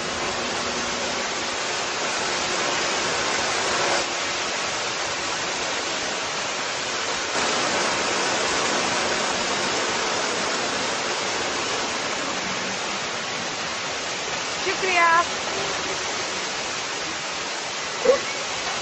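Rushing water of the Swat River on a riverbank, a steady broadband roar that holds even and continuous throughout, with a couple of faint brief knocks near the end.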